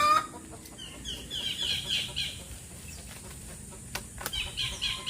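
Chickens clucking in a rural Philippine province, with scattered nearby clucks and a brief flutter of wings over quiet room background.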